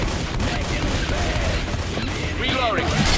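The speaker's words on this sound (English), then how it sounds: "Rapid fire shotgun for the win." Rapid shotgun blasts in Left 4 Dead 2 keep firing across a dense, chaotic game mix, with crowd noise and voices layered over the steady barrage.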